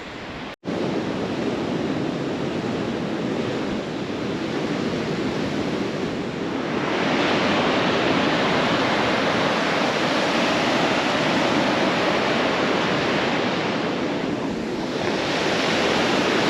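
Steady roar of ocean surf breaking on a Santa Barbara beach, a continuous broadband wash that swells louder partway through, close and loud, with no voices, after a brief dropout at the start.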